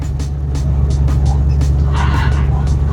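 Tires on a 1973 Mustang squeal during a burnout over a loud, steady engine roar close by, the squeal rising briefly in the second half.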